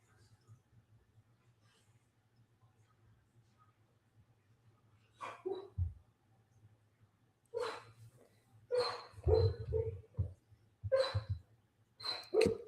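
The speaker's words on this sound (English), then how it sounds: "Can you hear my dog?" A sleeping dog gives several short, soft whimpers and muffled yips in bursts while dreaming, close by in a quiet room with a faint steady hum underneath.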